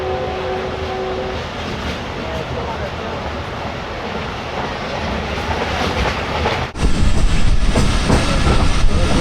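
A moving passenger train from Lahore to Sangla Hill in the rain gives a loud, steady rumble and rattle of rail cars, growing suddenly louder and brighter about two-thirds of the way through.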